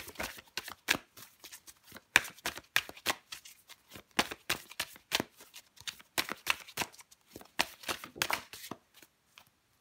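Tarot cards are shuffled close up in a quiet room, giving a soft, papery stream of riffling flutters and light slaps in irregular bursts, fairly faint, with no talk over them.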